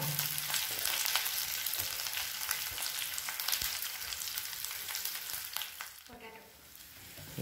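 Onion frying in hot oil with green chilli for a potato curry, a dense continuous sizzle broken by stirring scrapes, easing off near the end.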